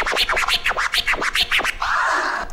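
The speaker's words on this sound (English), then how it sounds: "we got the single to double time tears" Scratching on a DJ turntable: tears played slow then doubled in speed, a quick chain of crisp zipping strokes that ends in a held, blurred tone, loud with no voices.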